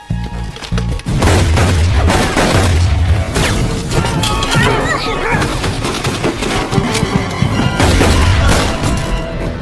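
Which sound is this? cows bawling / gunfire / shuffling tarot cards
gunfire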